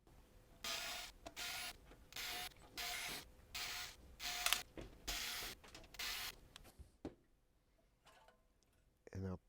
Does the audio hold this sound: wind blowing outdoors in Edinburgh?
no